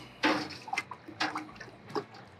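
Brewing salts are stirred by hand into water for a pumpkin ale and lager brew, making a few short sloshing swirls close by with quiet gaps between them.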